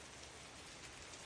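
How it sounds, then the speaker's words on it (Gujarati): Rain falling outside during the monsoon, a faint, steady, even hiss of drops with no other sounds and no voices. "જો કેટલો વરસાદ આવે છે."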